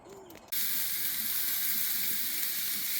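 Burgers cooking at a campsite break into a sudden loud, bright sizzle after a brief quiet moment, then hiss on steadily and close up until the end.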